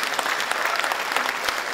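A hall full of people clapping steadily at a felicitation ceremony honouring guests on stage, a continuous moderate wash of applause with no voices.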